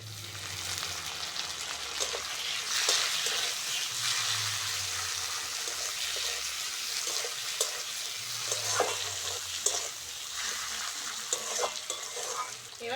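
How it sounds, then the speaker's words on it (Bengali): Chopped tomato hits well-fried onion in a hot pan for a fish curry, giving a loud, steady sizzle broken by repeated scraping strokes of a stirring spoon. "পেঁয়াজটা ভালো করে ভেজে নিয়েছি, এবার টমেটোটা দিয়ে দেবো।"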